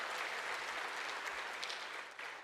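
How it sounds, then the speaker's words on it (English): A crowd at a Georgia Faith & Freedom Coalition political event breaks into loud, dense, sustained applause, then begins to taper off at the end. "Let's give Mac Parnell and the Georgia Faith and Freedom Coalition a round of applause"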